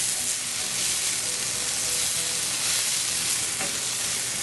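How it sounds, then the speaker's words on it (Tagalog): Pork belly sautéing in a pan with vegetables and tomato, a loud, steady, dense sizzle with faint stirring scrapes throughout and no voices. "Igigisa lang natin itong pork belly dito sa mga gulay na nailagay na natin kasama yung kamatis"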